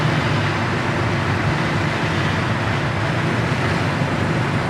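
A 1969 Chevy El Camino with a 4-barrel carburetor cruises down the road, its steady engine and road noise forming a dense, unbroken rumble throughout with no voices.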